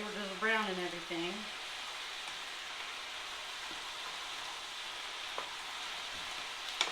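Beef for stroganoff browns in a hot pan with a steady, close sizzle and crackle that holds throughout, while someone talks briefly at the start.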